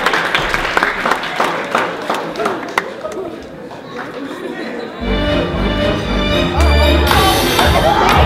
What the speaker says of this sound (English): Let's give a round of applause for Ms. Peaches.